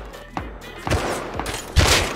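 Gunfire in the survival game Rust, several sharp bursts with one strong shot near the end, close and loud over a busy in-game background.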